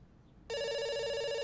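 After a brief quiet moment, a telephone in the video game Dr. Langeskov starts ringing loudly and keeps going without a break, a bright electronic bell tone with no voices over it.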